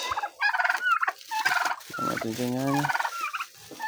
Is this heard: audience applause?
no